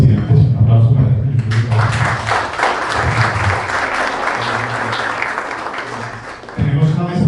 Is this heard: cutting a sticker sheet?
no